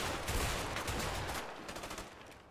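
Gunfire in the A Way Out video game, a dense burst of loud shots in the first second and a half, fading into lighter, scattered cracks and rumble toward the end.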